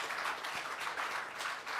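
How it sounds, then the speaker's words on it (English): An audience applauds, a steady wash of many hands clapping at moderate volume throughout. "please join me in a warm round of applause"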